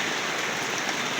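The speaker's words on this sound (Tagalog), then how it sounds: "umulan na naman po ng malakas. As in, magdamag po yung ulan." Heavy, unrelenting rain pouring down outdoors, a dense, loud hiss of drops striking surfaces with no pauses.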